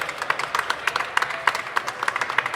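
Audience applause at a live podcast recording, a dense patter of many hands clapping at moderate volume with no talk over it.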